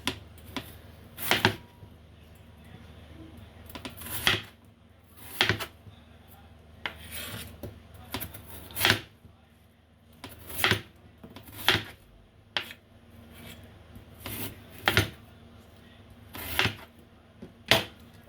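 A kitchen knife slices potatoes into cubes for pork adobo, each cut a sharp, separate tap on a cutting board at irregular intervals a second or two apart, close and fairly quiet against a soft background hum.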